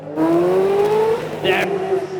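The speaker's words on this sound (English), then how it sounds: "classic Ferrari howl" A Ferrari mid-engined V8 two-seater supercar howls past at Beaulieu Supercar Weekend, its engine note climbing loud and close before easing off, with a brief high whine near the end.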